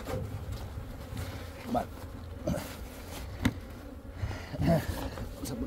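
Honeybees from a well-established swarm colony with several frames of brood hum steadily around an open hive during an inspection, a continuous close buzz with brief louder passes, while a person speaks briefly.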